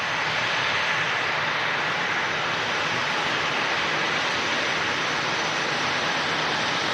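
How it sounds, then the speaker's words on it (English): Tri-jet business jet at William P. Hobby Airport, Houston, its engines roaring as a loud, steady broadband rush that holds without a break for the whole stretch, with no voices over it. "Not often you see tri-jets anymore. Awesome, bizjet."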